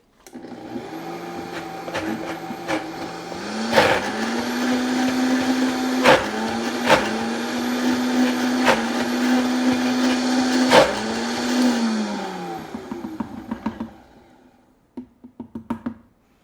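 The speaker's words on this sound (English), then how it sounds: "I'll come back on when it's blending so you can see it." A blender whirs steadily for about thirteen seconds, churning a thick, dry plant-based cheese ball mixture, its motor pitch dipping and rising as a tamper is pushed in, with sharp knocks throughout, then stopping into a few final taps.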